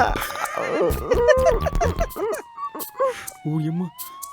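A wailing siren slides steadily in the background while several people talk loudly and excitedly over it.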